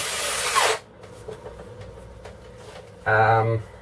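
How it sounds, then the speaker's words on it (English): A power drill whirs loudly for under a second at the start, then again briefly near the end, with quieter handling noises in between, while making a lamp from junk. "So plug in the power drill, and this is going to be an ungodly noisy part of the project"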